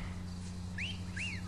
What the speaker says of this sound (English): Who whistled at me?